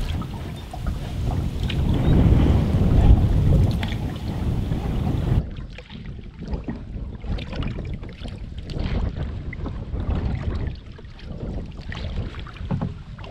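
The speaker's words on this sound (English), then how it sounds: "apart from that wind." Wind buffeting a microphone while canoeing on the River Wissey in the Norfolk Fens, a loud continuous rumbling roar that drops to a lighter, gusting hiss about halfway through, with no one speaking.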